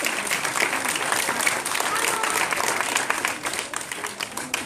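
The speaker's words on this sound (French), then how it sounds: "vous applaudissez très fort." A crowd applauding continuously, dense clapping at steady strength from start to finish, with voices mixed faintly into the noise.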